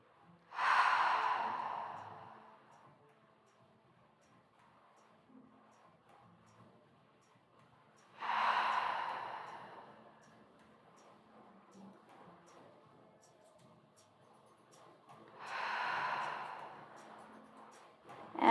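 Three slow, deliberate cleansing breaths during a yin yoga session, each drawn in through the nose and released audibly out through the mouth, evenly spaced with quiet pauses between.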